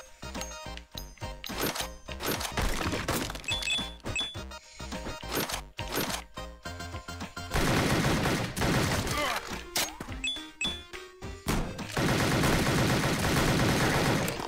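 Rapid bursts of gunfire from a short-range gun in a Rot Gut video game, loud and dense, with busy game music and effects around it.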